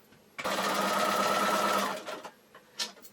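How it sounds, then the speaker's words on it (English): Sewing machine chain piecing quilt fabric pieces without pins, one loud continuous burst of stitching lasting over a second, then a few soft handling taps. "Then I will match these and these 2 and stitch all 3 of those in one go, chain piecing."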